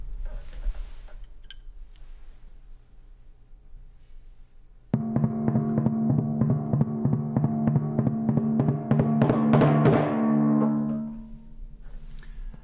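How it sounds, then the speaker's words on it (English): A muted timpani plays the ostinato from Borodin's Polovetsian Dances: dry, rapid, evenly repeated strokes that start abruptly after a quiet stretch, drive on for several seconds and then fade out, with no talking. "The composer actually writes for a muted ostinato, which sounds like this."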